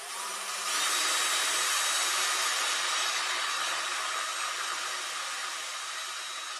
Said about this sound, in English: I'll hold it level with the drill